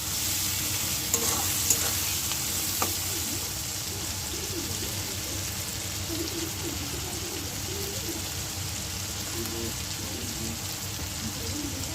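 Chopped tomato with salt sizzling and being stirred in a pan with onion, a dense continuous frying hiss and soft scraping that stays even and close throughout.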